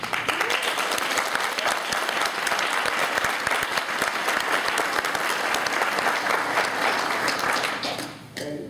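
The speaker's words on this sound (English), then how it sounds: "And I think we should give them a round of applause." A large audience claps at the HOLA Awards 2011 ceremony, dense and sustained applause that continues for about eight seconds before it thins out at the close.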